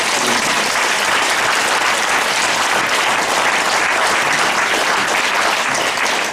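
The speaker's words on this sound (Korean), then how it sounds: "13번 강의하시고 수고하신 배명도 신부를 큰 박수 부탁드립니다" A seated audience at a senior academy closing ceremony gives loud, sustained applause for a priest lecturer, thick and even clapping throughout with no voices standing out.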